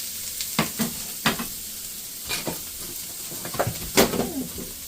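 One large yellow onion frying in hot olive oil in a pan, a steady sizzle broken by several sharp clatters and scrapes of stirring, close up with no voices.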